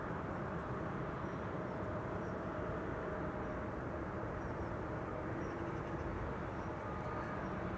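Airliners taxi at Amsterdam Schiphol Airport as a steady, distant jet-engine hum and rumble that holds evenly for about eight seconds without letting up.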